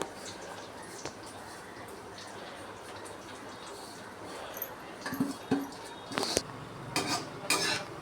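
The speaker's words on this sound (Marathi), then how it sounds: "असे बदाम चांगले भाजू द्यायचे" Almonds and poppy seeds dry-roasting in a pan, quiet scraping and stirring with a light sizzle, then sharper clinks and scrapes of a spoon against the pan in the last few seconds.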